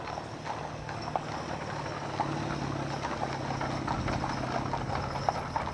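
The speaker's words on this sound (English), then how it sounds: "These palominos are pretty." Palomino horses' hooves clip-clop on pavement in a steady, moderately close rhythm of separate strikes, with a low engine-like hum running underneath throughout.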